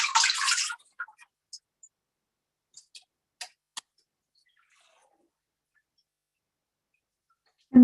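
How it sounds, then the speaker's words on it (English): Clean water poured from a cup over feet at the end of a foot soak: a brief splashy pour, then a few scattered soft drips in near silence, with a voice starting right at the end. "So let's go ahead and rinse the feet"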